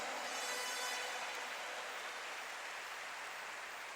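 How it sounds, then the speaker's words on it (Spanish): Sustained applause from a church congregation fills the space as a steady, dense wash of many hands clapping together, loud and even throughout with no talking over it. "Aplauda a Dios si lo cree, porque esto va a pasar."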